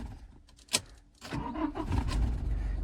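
A Toyota Innova Crysta diesel engine is restarted: a sharp click, a brief quiet pause, then the starter catches and the engine settles into a steady, close rumbling idle.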